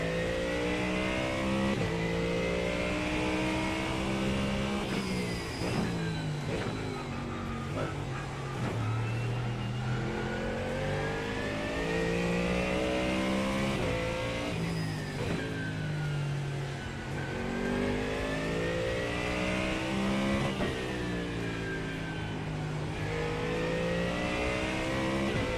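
GT3 Mustang race car in iRacing, its engine revving loud and steady throughout with rising and falling pitch through gear changes on the Nurburgring, close and continuous with no talk.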